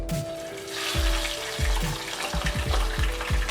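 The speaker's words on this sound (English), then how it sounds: "As soon as you add the fish head to the oil, it kind of sputters immediately" A rohu fish head drops into hot mustard oil and sputters hard, then settles into a loud, continuous close-up sizzle with crackling pops and a faint steady tone underneath.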